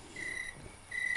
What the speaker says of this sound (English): now you notice that cricket sound is just playing over and over again